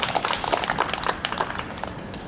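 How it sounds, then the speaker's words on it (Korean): Congregation applause at a church national prayer meeting, a short burst of dense clapping from many hands in a hall, fairly loud and steady with no voices over it. "우리 모두를 위해서 우리 한 번 더 박수하겠습니다"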